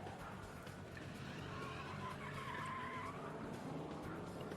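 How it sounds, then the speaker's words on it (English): Car chase with tyres skidding and squealing just outside a window, a continuous rumbling, screeching wash of engine and tyre noise that holds steady and loud throughout. "now the car chase has got really close. It's like it's right outside the window"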